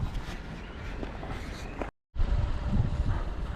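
Wind buffets a microphone outdoors in low rumbling gusts, loud and close, with a brief cut to silence partway through before the blustering resumes.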